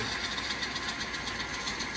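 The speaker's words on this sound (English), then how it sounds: "you can hear the engines" A model train engine runs under DCC-EX throttle control, giving off a steady, fairly quiet whirring hum with a fast rhythmic pulse and no talk.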